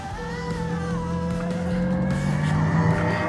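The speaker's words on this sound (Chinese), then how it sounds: "车舱的虚拟音效也变得不一样， 它变得比较运动感， 声音变得比较大哈。" Synthetic sporty engine sound piped into the cabin of a Lexus RZ 550e F Sport electric car in manual mode, a steady futuristic tonal drone with rising and shifting whines over low rumble, swelling louder near the end.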